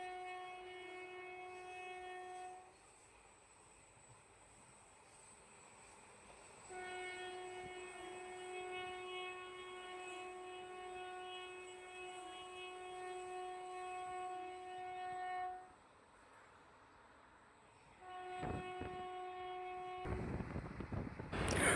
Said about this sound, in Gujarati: હવે ટ્રેનની ઝડપ પણ વધી ગઈ છે